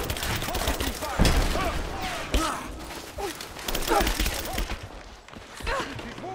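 Rapid gunfire and thuds from a firefight in the 2015 video game Rise of the Tomb Raider, set in a railyard battle, with shouted voices and groans mixed throughout the busy, loud exchange.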